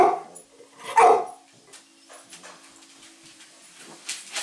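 A dog gives a couple of short barks close by near the start, followed by quieter rustling and faint sounds.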